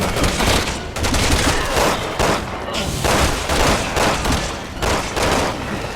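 Rapid bursts of gunfire from the video game Resident Evil 6 come in repeated volleys through a firefight, loud and dense, with brief gaps between clusters of shots.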